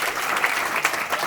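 A lively burst of audience applause for the founders of Laskar at a multi-level marketing business event, with dense, fast clapping throughout.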